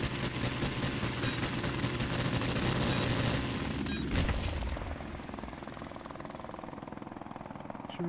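A helicopter in Call of Duty Modern Warfare Remastered thunders with a loud rotor drone over bursts of gunfire and explosions, then eases to a steadier, quieter hum for the last few seconds.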